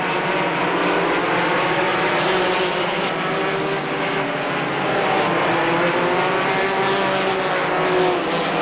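Stock race cars roar around Holland Speedway during a 1991 Busch North 150 event, a loud, dense, continuous engine drone from a pack of cars that holds steady throughout.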